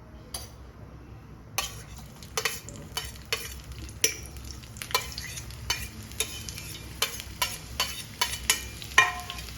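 Ginger, garlic and shallots fry in hot coconut oil, a steady close sizzle broken by repeated scraping and clinking of a spoon stirring against the pan at a fairly regular pace.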